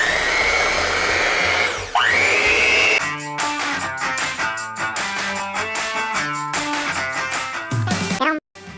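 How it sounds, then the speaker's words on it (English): An electric mixer whisks a vanilla pastry mixture with a loud, steady motor whine that dips and sweeps in pitch, then gives way to tonal clattering and brief bursts before stopping. "now I'm gonna whisk this together"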